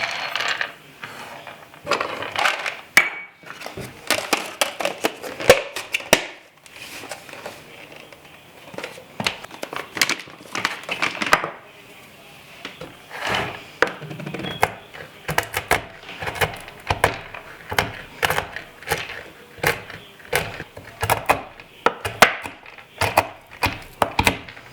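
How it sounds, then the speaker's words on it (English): Cashews and almonds chopped coarsely by hand on a board, with a rapid, irregular run of close, sharp chopping taps that continues throughout. "coarsely chop my cashews and my almonds by hand"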